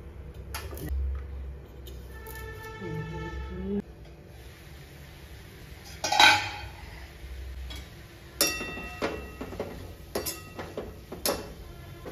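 Frozen coconut pieces are broken apart during cooking, giving several sharp, hard knocks and cracks spaced a few seconds apart over a low, quiet kitchen hum.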